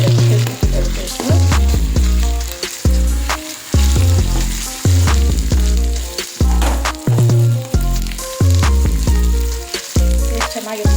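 Ginger garlic paste fries loudly in a hot pan, a dense sizzle broken by repeated scraping stirs in an uneven rhythm, close up with no talking.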